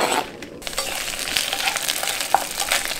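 Chopped green onions hit hot cooking oil in a pan with a loud burst of crackling sizzle that settles into a steady, close frying hiss with small pops and occasional stirring.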